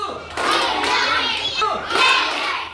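Children in a classroom play a counting clapping game, sharp bursts of hand claps mixed with young voices calling out in rhythm, close and lively.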